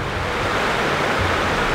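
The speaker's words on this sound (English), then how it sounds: "Jen, that water's flowing from underneath that hill." Steady rushing water flowing out from beneath a hill at Tytoona Cave, a continuous broadband wash with no break or rhythm, close and fairly loud throughout.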